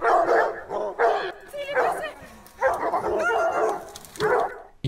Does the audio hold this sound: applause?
no